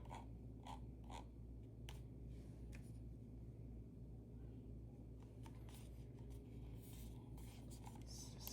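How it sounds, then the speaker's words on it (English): Faint, close-up ticking and scratchy clicks from a Vaxee E1 mouse scroll wheel being rolled down and up, a steady soft clatter with sharper notched ticks clustered at intervals, quiet and without talk. "Let's check out the scroll wheel."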